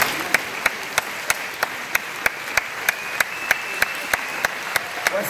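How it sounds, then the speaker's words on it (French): An audience at the Cannes Un Certain Regard awards applauds, a dense, steady wash of clapping with a few sharp, evenly spaced claps standing out above it in a regular rhythm. "Donc, soit vous applaudissez,"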